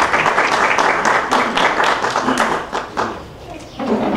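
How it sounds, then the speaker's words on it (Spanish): Applause from an audience at a book launch in Constanza greets the author, a dense burst of clapping with a few sharper claps standing out, steady across the clip and easing slightly near the end. "Es un honor para mí presentarles a Milena Delgado con un fuerte aplauso"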